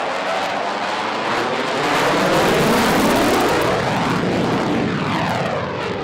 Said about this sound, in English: very shortly, be kicking those burners back in and then turning away to his left for a high-speed,